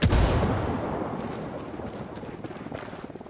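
A frag grenade goes off in Ghost Recon Wildlands, one loud close blast at the start that fades into a rumbling, crackling decay lasting a few seconds.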